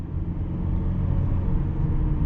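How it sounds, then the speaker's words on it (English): A 2009 Toyota Camry LE engine runs while driving, a steady, close low rumble from inside the car with road noise and no talk. "the motor sounds good"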